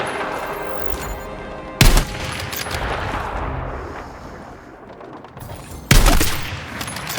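Two loud, sharp sniper rifle reports crack out in a Battlefield 6 campaign mission, each followed by a long rolling echo over a rumbling battlefield backdrop, with no voices.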